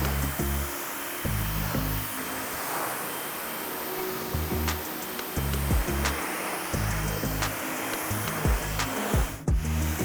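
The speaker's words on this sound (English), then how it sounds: "I'm actually pressure washing each surface area of the vehicle." A pressure washer sprays a car's surfaces with water to lift off pollen, a steady hiss against the body panels interrupted by bursts of low mechanical pump pulsing that come and go.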